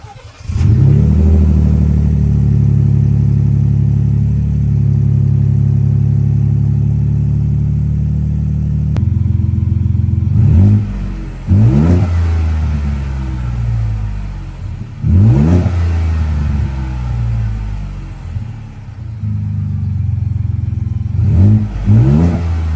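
A 2024 Ford F150 fitted with a cold air intake and catback exhaust starts up and idles with a deep, loud rumble, then revs hard several times in repeated bursts, each rising and falling.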